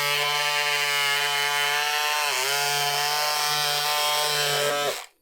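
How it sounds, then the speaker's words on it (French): Electric scissors cut through jersey fabric with a steady high-pitched motor whine that runs loud and unbroken for several seconds, then cuts off abruptly. "j'ai trouvé les ciseaux super intéressants pour la découpe des patrons en jersey notamment"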